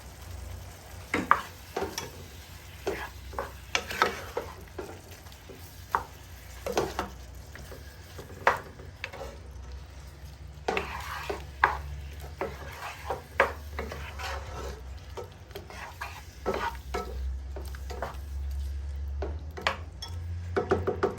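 Paprika being stirred into sizzling pasta sauce in a pan for a mixed Italian pasta, with a steady low frying hiss and repeated clacks and scrapes of a utensil against the pan, close and with no one talking.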